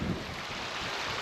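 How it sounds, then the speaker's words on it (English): Steady, blustery wind roars across the microphone with a low rumble on a wet night in the Forest of Bowland, a brief stronger buffet at the start, no voices. "the wind is getting bad again. The gusts are picking up"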